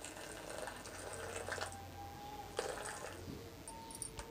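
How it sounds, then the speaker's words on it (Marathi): Hot water streams into a pan of upma premix with a soft, continuous pouring gurgle, punctuated by a few faint clinks and splashes. "मी आता हे 2 वाटे पाणी घालून घेते. गरम गरम पाणी आहे."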